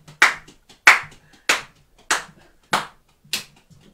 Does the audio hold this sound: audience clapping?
yes